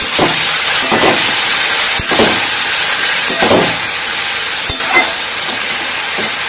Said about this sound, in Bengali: আদা কাঁচা গন্ধ যাওয়া অবধি ভেজে নিয়ে এর মধ্যে সেদ্ধ করে রাখা চাল কুমড়ো দিয়ে দেবো